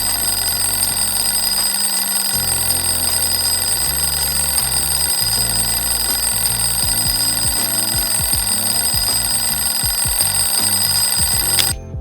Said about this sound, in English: The alarm can be heard up to 50 meters away, and it does actually sound when in a player's inventory.